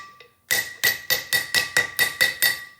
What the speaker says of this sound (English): sealer installer plate, fits perfectly over the seal, and I'm just gonna smack her on there